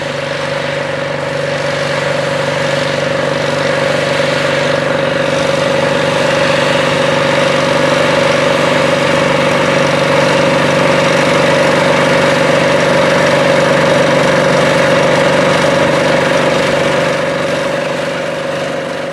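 A 1981 International 4786 four-wheel-drive articulated tractor runs with its engine at a steady idle, a loud, even, droning hum that holds unchanged for nearly twenty seconds with no voices.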